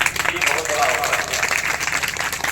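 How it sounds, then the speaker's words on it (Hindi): A gathered audience claps for an honored guest, a burst of crowd applause with uneven clapping, mixed with a voice speaking over it. "उनके लिए भी आप लोग जोरदार ताली बजाएंगे"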